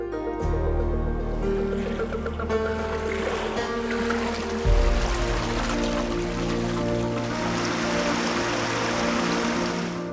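A boat glides through the dark Glowworm Grotto cave, giving a steady low rumble with soft washing water that swells briefly midway, with no voices.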